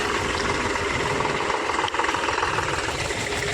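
A tractor engine drones steadily and loudly while ploughing a farm field, a continuous rumbling hum with no speech.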